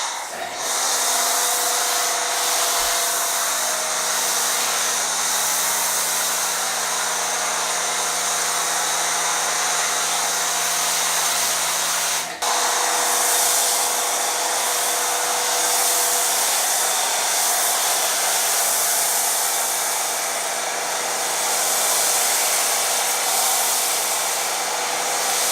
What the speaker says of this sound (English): Okay, we're gonna foam now. This we have chemical guys,